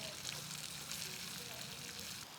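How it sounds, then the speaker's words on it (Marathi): Sliced onions sauté in a pan with a steady, close sizzle and frying crackle that holds evenly throughout, with no voice over it. "लांब चिरलेला कांदा आणि ह्याला छान परतून घ्यायचा आहे आपल्याला"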